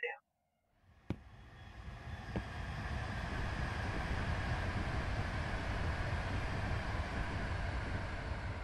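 Train passing in the railway simulator game SimRail, a steady broadband rumble that builds after a brief click and stays loud and constant, with faint tonal hum running through it.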